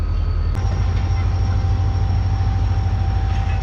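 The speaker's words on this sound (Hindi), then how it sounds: "तो तेज़गाम तो इतने आहिस्ता आहिस्ता डिपार्ट कर रही है" Tezgam train pulling slowly out of a station in Karachi, a steady low rumble and rolling drone with a faint sustained tone, continuous and fairly close, with no speech.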